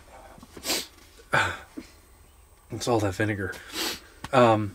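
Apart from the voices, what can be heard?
sneeze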